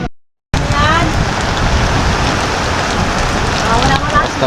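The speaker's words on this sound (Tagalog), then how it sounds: "Hindi na malapitan at ang lakas ng ulan." Heavy rain pours down on a ship in a steady, dense roar after a brief moment of silence, loud and close throughout.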